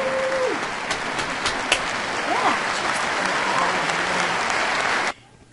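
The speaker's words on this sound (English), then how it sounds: "we hear cheers from the crowd right now." A large crowd applauds and cheers in a dense, steady roar of clapping that cuts off abruptly near the end.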